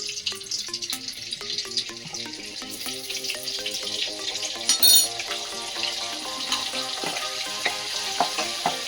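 Oil and butter heating together in a pan for sahi makhana matar, giving a soft, steady sizzle with occasional louder crackles, mostly under continuous background music.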